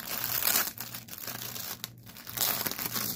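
A plastic bag wrapped around an art canvas from a painting kit crinkles up close, with steady rustling and crackling that swells and fades over a few seconds, loud and alone without talk.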